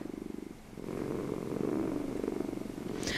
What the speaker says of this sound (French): faire une sieste apaisante accompagnée du doux ronronnement des chats